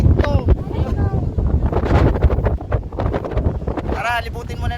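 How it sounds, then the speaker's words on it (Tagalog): Strong wind gusts across an open coastal spot on the Ilocos coast, roaring steadily and buffeting the microphone, with people talking and exclaiming over it throughout. "Wow, ang lakas ng hangin."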